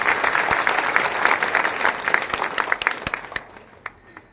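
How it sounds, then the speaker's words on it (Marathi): An audience applauds to welcome a revered religious guru at a devotional gathering, with dense clapping at first that thins into scattered individual claps and dies away. "आपण सगळेजण टाळ्या वाजून स्वागत करू"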